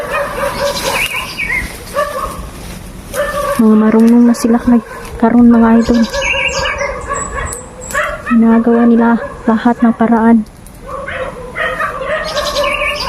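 Dogs bark and yip repeatedly in short bursts, fairly close, while people talk over them.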